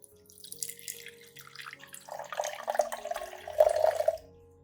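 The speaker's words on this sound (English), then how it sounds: "Then add 400 milliliters of clean water at room temperature." About 400 milliliters of room-temperature water pours steadily into a container, building from a thin trickle to a fuller, splashing stream before stopping.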